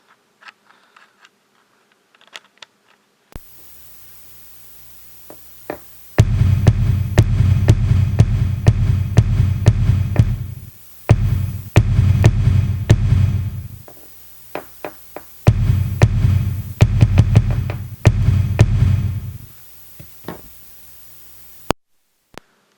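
Electronic kick drum hits from a Simmons trigger pound in fast, rapid bursts, a deep thudding pulse repeated in several long runs separated by short pauses.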